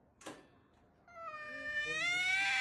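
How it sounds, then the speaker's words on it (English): Big tomcats fighting, with a brief cry early on, then a loud, rising, drawn-out caterwaul that swells and holds close up, with no voices. "This is how you diffuse a cat fight."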